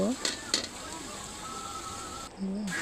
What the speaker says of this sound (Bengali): প্রথমে আমি চিংড়ি মাছ দিয়ে দিলাম